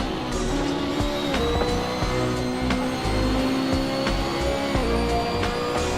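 A BMW M3 GT2 race car on the Nordschleife in Assetto Corsa, its engine roaring loud and steady with audible gear shifts and pitch changes, accompanied by faint tire squeal.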